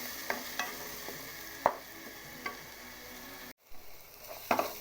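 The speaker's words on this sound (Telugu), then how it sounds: "ఇప్పుడు ఆనియన్ పేస్ట్ కొంచెం వేగింది కదండి" Onion paste frying in a pan for a chicken stir fry, with a soft steady sizzle broken by a few scraping stirs, close and moderately quiet, no voices.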